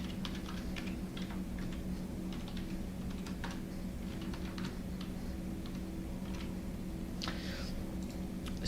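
Quiet typing of code on a computer keyboard, a run of irregular light key clicks with brief pauses, close and soft against a low steady room hum, with no talking.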